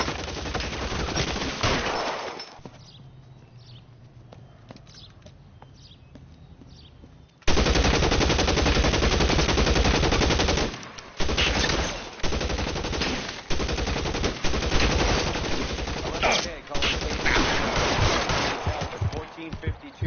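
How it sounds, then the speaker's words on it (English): Gunfire in the L.A. Noire video game: loud, dense bursts of shots crackle through a sustained rattling barrage, dropping briefly quieter before surging back at full intensity with a voice talking over it. "Shots fired and officers need help at 1452 North Las Palmas."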